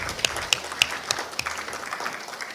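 Audience applause at a programmatic advertising summit: a dense, moderately quiet patter of clapping with a few sharper individual claps standing out, steady for the whole stretch.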